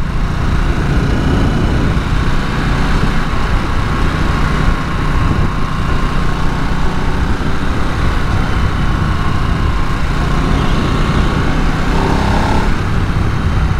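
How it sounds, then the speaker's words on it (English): Steady, loud roaring wind blast buffeting a rider on a 2022 Harley Davidson Nightster 975, with the low drone of the engine running beneath it throughout, continuous and close. "there's a fair bit of wind blast so far"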